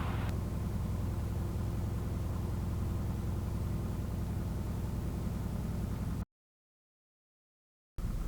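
A small aircraft engine with an electronic ignition system drones constantly while taxiing, a hum with broadband noise, steady and unchanging, briefly dropping out to silence before returning.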